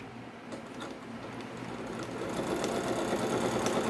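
Sewing machine stitching a gathering row just above an earlier line on fabric, a rapid mechanical chatter that runs steadily close by and grows slightly louder toward the end, with no talking.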